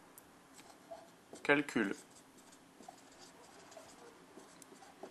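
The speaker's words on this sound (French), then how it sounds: "Je vais l'écrire." A marker or chalk scratches briefly across a board during a probability lesson, a quick burst of scraping strokes over a quiet room while a French-speaking voice talks.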